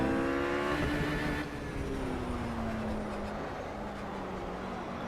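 A RUF GT3 race car engine howls near its rev limiter in Project Cars at the Nürburgring, with steady high revs dropping in pitch as it shifts, loud and close.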